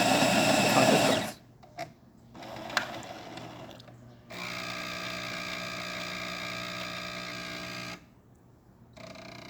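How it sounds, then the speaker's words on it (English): A Jura E8 coffee machine brewing espresso gives a steady mechanical pump hum with tonal whine. It starts loud, drops to quieter clicks, then holds a strong even drone for several seconds before stopping. "Now we're going to do a espresso"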